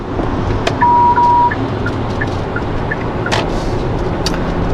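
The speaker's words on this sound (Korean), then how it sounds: "속도가 대략 80인데 타이어 소음이 좀 이렇게 잘 들리는 편이죠" Steady broadband road and tire roar from a 2019 Hyundai Tucson facelift 1.6 diesel cruising at about 80 km/h, with a faint brief tone and a few light knocks over the constant rumble.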